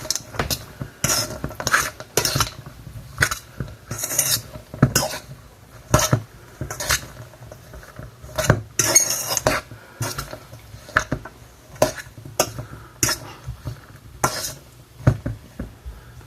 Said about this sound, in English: now we're just going to mix it all together